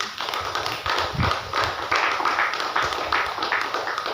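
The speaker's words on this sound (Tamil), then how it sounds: "கைதட்டுங்களேன்" A congregation at a Tamil church sermon claps together in a loud, sustained burst of rhythmic hand claps, fairly close, with a voice faintly underneath.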